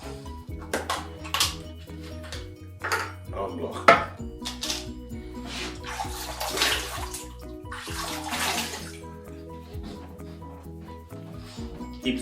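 Water from a tap splashing into a basin as a face is rinsed after a shave with an Edwin Jagger DE89 safety razor, with irregular splashes and clinks over a low hum, close by.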